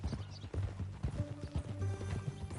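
Horse hooves clip-clop steadily in a PS4 game, an even plodding rhythm of close knocks running throughout beneath soft game music and faint background voices.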